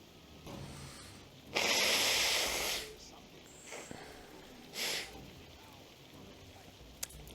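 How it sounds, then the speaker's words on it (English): A person blows their nose in one long, loud, gusty burst, then adds a shorter second blast a few seconds later, with quiet room noise in between. "Gotta blow my nose"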